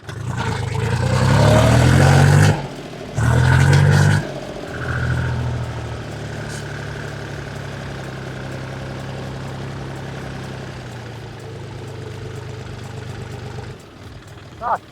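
A Lada Niva engine roars in two loud revving bursts as the car climbs onto a riverbank, then settles into a steady lower running hum for the rest of the stretch, with someone speaking briefly.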